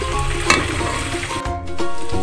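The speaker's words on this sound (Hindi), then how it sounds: "अब ये लहसुन जो मैंने चॉप करके रखा हुआ था ये भी इसमें ऐड कर दूंगी मैं।" Chopped garlic and oregano frying in a pan for white sauce pasta, a steady close sizzle with a few stirring clatters and a brief scrape partway through.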